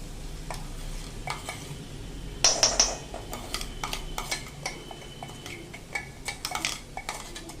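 Ground paste of coconut, garlic, ginger, green chilli and coriander powder is tipped into hot tempering in a pan for a cluster bean (gavar) bhaji. A steady low sizzle runs under scattered utensil clinks, with a louder clattering scrape partway through.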